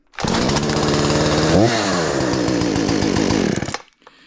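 A Husqvarna 455 Rancher chainsaw runs close by, its loud two-stroke engine snarling at a steady high pitch with one brief rev dip midway, then cutting off abruptly.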